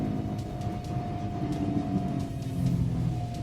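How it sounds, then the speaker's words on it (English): Nissan Gravite Limited Edition engine droning at high RPM under acceleration, a steady loud hum with a sustained tone, heard from inside the car with no talk. "you can hear that there is a lot of engine noise that is creeping in"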